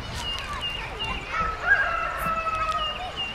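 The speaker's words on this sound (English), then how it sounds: "It's a rooster." A rooster crows nearby, a drawn-out strained call, with faint background voices and outdoor ambience.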